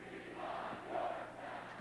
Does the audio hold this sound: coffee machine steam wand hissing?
no